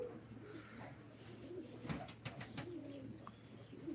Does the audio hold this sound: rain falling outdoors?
no